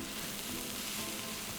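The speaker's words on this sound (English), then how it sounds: "We're gonna saute this mushroom with the onions for anywhere between 3 and 5 minutes" Mushrooms and onions sautéing in a pan for vegan lasagna, a soft steady sizzle heard close up and alone, without any talking.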